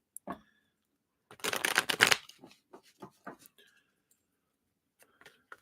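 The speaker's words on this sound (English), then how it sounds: "I want to just shuffle real quick here" Tarot cards are shuffled by hand at a live reading session: one dense burst of riffling lasting about a second, then a scatter of soft taps and card flicks, close and fairly quiet.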